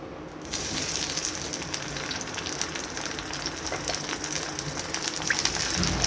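Brinjal pieces frying in oil in a pan, giving a steady, dense sizzle that runs throughout at moderate loudness with no talk.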